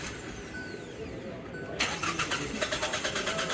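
Car engine cranking and struggling to restart after its camshaft sensors were unplugged: quiet at first, then a loud rhythmic starter churn with repeated pulses that keeps going without catching.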